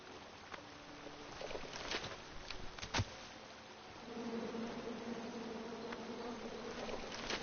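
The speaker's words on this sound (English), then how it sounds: "you chop down the tree full of angry bees" Angry bees buzz in a video game, a faint steady drone that swells and holds in the second half after a few scattered clicks and thumps.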